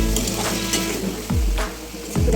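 Fish pieces hit hot oil with spices in a pan, giving a continuous loud close-up sizzle broken by a couple of soft stirring clunks.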